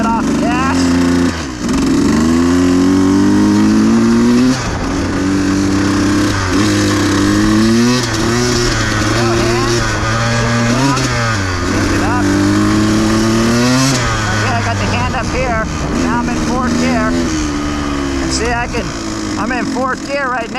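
A motorcycle fitted with a Rekluse auto clutch pulls away in gear, its engine droning loud and close with rising and falling revs through repeated accelerations, while a rider talks over it throughout.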